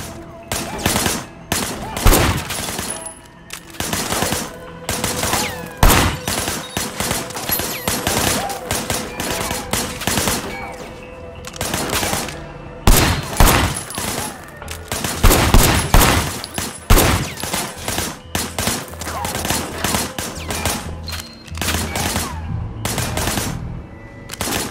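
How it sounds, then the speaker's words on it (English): Bursts of gunfire and fusillades in Sleeping Dogs: Definitive Edition, loud and dense, with rapid volleys and sharp single shots firing almost continuously for the whole stretch. "I want you to put some bullets in a few things."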